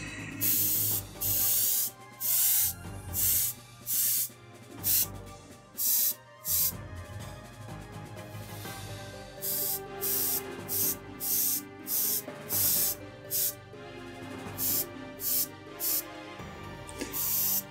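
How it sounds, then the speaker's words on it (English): An airbrush sprays paint in repeated short bursts, a sharp airy hiss switching on and off in an irregular rhythm, close and fairly quiet, with faint background sounds between bursts. "I can write with this airbrush when it's flowing"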